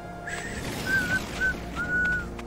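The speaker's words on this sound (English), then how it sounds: "My whistling sucks." A lone person whistles a few wobbly, off-pitch notes in short bursts, faint and near, with quiet background hum while playing a space exploration game.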